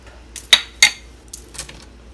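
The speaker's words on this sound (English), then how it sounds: "And I'm going to stir it up." A spoon stirs a mixture with shredded cheddar in a bowl, making a few sharp, close clinks against the side, followed by softer scrapes and taps.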